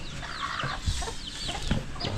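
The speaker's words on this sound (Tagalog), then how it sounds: "Mga manok." Several chickens cluck and squawk close by in irregular bursts, with a few low thumps and steady farmyard background noise.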